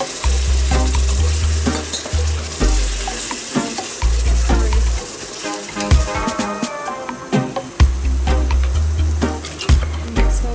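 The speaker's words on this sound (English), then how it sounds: "Give it a good stir." Onions browning in a pot for Jamaican goat curry sizzle steadily while being stirred, with frequent scraping strokes and bright crackles over a bed of low-pitched background music.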